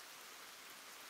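Heavy rain pours down steadily as a dense, even hiss, faint and continuous for a brief moment with no voices.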